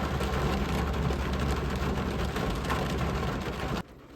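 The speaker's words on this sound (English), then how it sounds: "It's raining outside." Steady rain drums outside a parked car, a dense, even wash of noise with no talk that cuts off abruptly just before the end.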